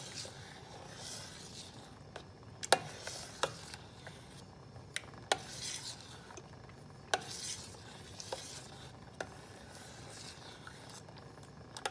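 A spoon stirs khandvi batter in a pan on a gas stove, giving a soft, continuous scraping swish with scattered sharp clicks where the spoon strikes the pan, close but faint.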